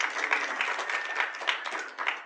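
A recovery meeting audience applauds a speaker named Sam: a short burst of scattered, moderately distant clapping from a small group, fairly soft and even throughout.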